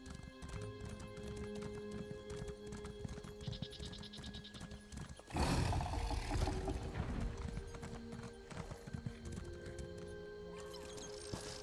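Horses in the Elder Scrolls Online video game, with steady hoof clip-clop and a sharp whinny rising midway over layered game ambience and background music.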